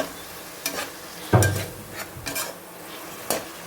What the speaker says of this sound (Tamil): ஸோ ஆட் பண்ணிட்டு இதையும் வதக்கிடலாம்.